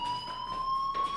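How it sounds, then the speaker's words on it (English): A fire alarm rings steadily in the video game Life Is Strange, a sustained electronic tone with bright harmonics that holds through the whole moment at moderate level, with no talking. "do you hear that fire alarm?"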